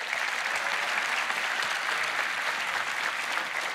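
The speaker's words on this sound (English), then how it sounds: "Let's give them a round of applause." A large audience at the RDC 2024 opening keynote applauds steadily, a dense, even wash of clapping that holds at the same level for several seconds without speech.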